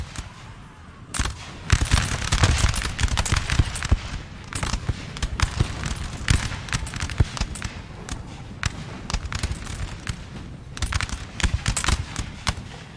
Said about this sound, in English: Just gotta love the smoke and the musket noises.